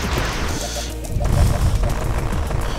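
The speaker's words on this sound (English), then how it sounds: "Oh yeah, power bomb, okay." A power bomb detonates in Another Metroid 2 Remake, a heavy booming blast that swells around the middle of the clip and rumbles on beneath the game's steady music.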